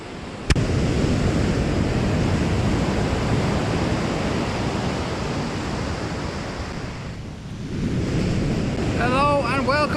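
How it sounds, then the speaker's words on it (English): Atlantic beach surf on the French coast, a steady close wash of breaking waves and rolling water with wind noise buffeting the microphone, continuous throughout, easing briefly before swelling again. "So this is a clip of the beach I was fishing in France."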